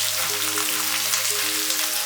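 Vegetables stir-fry in a wok of hot cooking oil, making a loud, steady sizzle that runs close and unbroken throughout with no talk.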